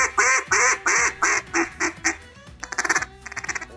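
A duck call blown in a run of loud, close nasal quacks, slowing and fading, followed by a quicker burst of shorter quacks.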